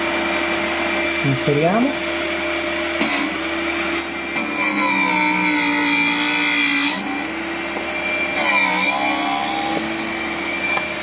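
A drill bit sharpening tool runs with a steady motor whine and harmonic tones, its grinding pitch shifting as the bit turns in and out for a rusty bit, with a short spoken word over it.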